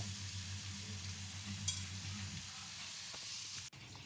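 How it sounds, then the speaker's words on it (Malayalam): Chopped onions fry in hot oil in a home kitchen, giving a steady, close sizzling hiss over a low background hum, with a brief clatter near the end. "അതിലേക്ക് ഞാൻ ഉള്ളി പൊരിക്കാൻ ഇടാണ് കേട്ടോ"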